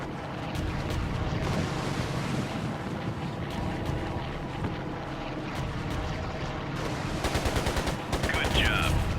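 Ships trading gunfire in the video game Air Conflicts: Pacific Carriers, heard over a steady wind-and-sea rumble, with a fast run of sharp reports closing the stretch.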